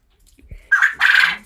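A male quail gives a loud, close two-part call, with a short burst followed by a longer rasping note, all alone in quiet.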